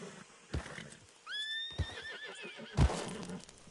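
A horse in Red Dead Redemption 2 gives one long, wavering neigh, framed by a few heavy hoof thuds and stamps before and after, close and clear over quiet background.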